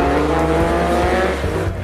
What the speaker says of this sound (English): the rumblings of cars resonated throughout the circuit as the local drift racers